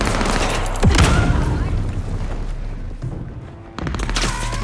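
Gunfire in Vampire: The Masquerade - Bloodlines 2, a loud close burst of shots with a heavy booming impact, then a quieter stretch of game ambience before another sharp burst.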